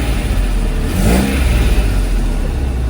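A Mercedes R107 280SL runs on test after a fuel distributor repair. Its engine gives a steady, loud low drone with a slight swell in revs partway through, and no voices.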